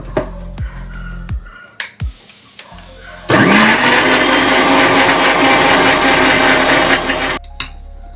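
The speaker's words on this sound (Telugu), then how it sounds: "కొంచెం మిక్సీ పట్టుకున్నాక పాలు పోసుకుందాం" A kitchen mixer grinder blends dry fruits for a breakfast smoothie: a few clicks and handling knocks, then a loud, steady motor whir for about four seconds before stopping abruptly.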